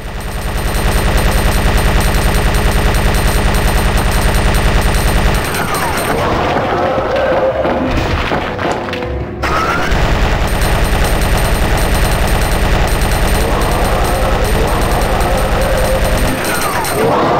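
Gunfire aimed at a monster in the video game Resident Evil 2, a loud steady stream of rapid shots, broken by a short lull with rumbling, then resuming under loud game audio.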